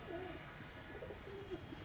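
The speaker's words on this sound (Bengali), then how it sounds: "দেখেন কবুতরগুলো সব ভিতরে রাখছি" Pigeons kept indoors give a few faint, low coos against quiet room ambience, with no talking.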